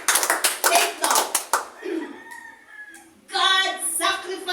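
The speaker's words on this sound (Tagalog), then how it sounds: "Isa pong malakas na palakpak sa Panginoon." Clapping from a church congregation breaks out in a few loud, sparse bursts near the start, then gives way to voices talking.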